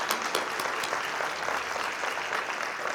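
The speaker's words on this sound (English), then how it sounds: "let's give them another round of applause" Steady applause from an audience at the City of West Covina State of the City and employee recognition event, many hands clapping evenly and fairly close for three seconds without speech.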